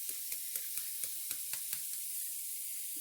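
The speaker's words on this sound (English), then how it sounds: "We're going to keep on stirring it so it doesn't burn." A mixture of finely chopped spinach sizzles steadily in a hot pan while a utensil stirs it with regular scraping taps, the frying hiss bright and continuous throughout.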